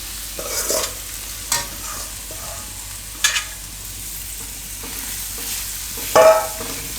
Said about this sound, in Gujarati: આમાં હવે આ કેળા આપણે નાખી દઉં